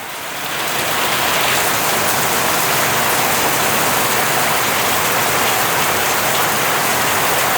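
Water pours steadily and loudly into a container of rice, three cups for Jaffna-style chicken rice porridge, a continuous rushing splash that starts quickly and keeps going without a break.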